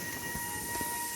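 A Southeastern train standing at a Cannon Street platform, giving a steady mechanical hum with a sustained tonal whine and faint low rumbles, close and continuous with no talking.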